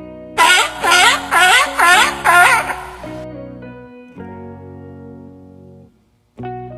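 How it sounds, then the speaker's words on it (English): Sea lion barking in a burst of five loud, rhythmic harsh barks, followed by quieter lower calls and a final bark after a short gap. "Sea lion."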